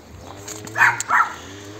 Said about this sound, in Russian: Ух, собаки.